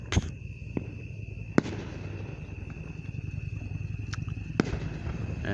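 Fireworks at a 2021 Fourth of July show in Booneville pop with several sharp, distant bangs over a constant rumbling crackle of the display.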